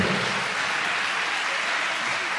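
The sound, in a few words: congregation applauding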